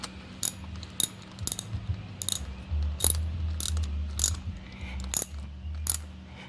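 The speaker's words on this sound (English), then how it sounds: "this is a 5/16 star head that I'm using to tighten this with" Rapid ratchet clicks in short bursts as a 5/16 star bit tightens thermostat housing bolts on a Mercedes-Benz during a coolant change, close and fairly loud over a low engine-bay hum.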